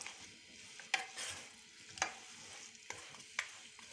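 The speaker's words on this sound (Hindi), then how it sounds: "थोड़ी देर इसमें तेज आंच पे इसको चम्मच चला लेंगे।" A spoon stirs mutton karahi in a pan over high heat, giving a quiet background sizzle and four distinct metallic scrape-clinks about a second apart.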